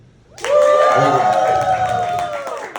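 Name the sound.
audience cheering and clapping at comedy show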